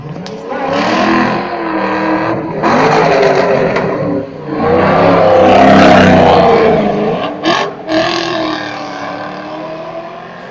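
A Ford Mustang starts at a car race, loud roaring engine surges rising and falling in repeated bursts with brief gear-change dips, close by and dominating the scene.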